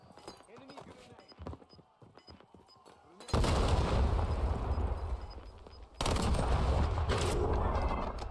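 Grenade blasts in the shooter Warzone: after a stretch of quieter clicks and movement, a loud explosion erupts with a long rumbling tail, followed a few seconds later by a second heavy blast that sustains to the end.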